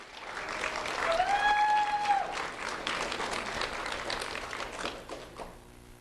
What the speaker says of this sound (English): Let's have a round of applause for Terrell Leggett.